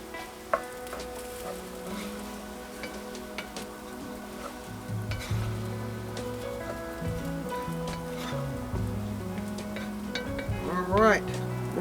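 Parmesan being stirred into sizzling lemon parmesan pasta in a pan, a steady frying hiss with scraping stir strokes, close and fairly loud, with a brief voice near the end.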